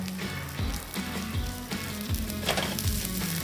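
Mushrooms frying in a generous amount of oil in a pan, a loud, close, steady sizzle with rhythmic stirring scrapes every half second or so and no voices.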